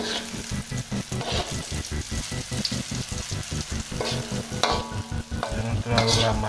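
Cirambay tapioca dough fries in hot oil, a steady close sizzle with rapid rhythmic stirring or scraping pulses running throughout.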